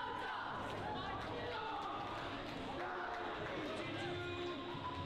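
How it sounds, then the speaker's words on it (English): Home crowd at a Westerly boys varsity high school basketball game against Smithfield roars steadily in a gym, a loud, continuous wash of cheering and shouting with voices mixed throughout. "The dog pound on their feet, and the Bulldog crowd is now alive"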